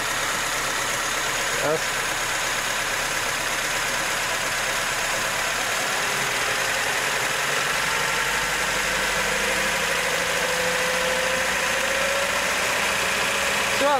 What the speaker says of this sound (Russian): Начинаем потихоньку повышать обороты.